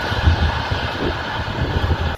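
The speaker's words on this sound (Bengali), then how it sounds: "ট্রেনটি বর্তমানে এখন Mirzapur Bankipur railway station cross করছে" An express train passes through Mirzapur Bankipur railway station with a steady low rumble and rhythmic wheel thumps on the rails, close and continuous, cutting off abruptly at the end.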